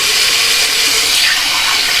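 Water runs hard from a bathroom tap while soap is rinsed off a Gemini razor, a loud steady close rushing stream with no pauses and no talk.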